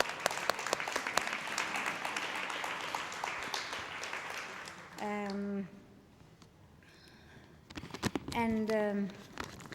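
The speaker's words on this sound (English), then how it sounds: "Shall we give a clap?" Audience clapping at an opening ceremony in Cambodia, a spread of claps fading out over about five seconds, followed by a voice talking with pauses and faint background noise.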